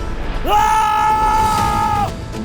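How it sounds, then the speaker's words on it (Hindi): A man lets out a loud, sustained shout lasting about a second and a half, held on one steady pitch in the middle of a Hindi drama scene, with a faint background hum around it. "आप चिल्ला क्यों रहे?"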